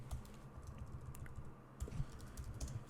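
Computer keyboard typing while writing Python code for a Pygame chess program, soft rapid key clicks over a steady low hum, fairly quiet and close, without speech.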